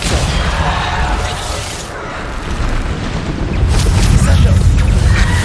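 Depulso, the repelling spell in Hogwarts Legacy, bursts out as loud, rumbling booms and crashing impacts that build over several seconds, dense and close.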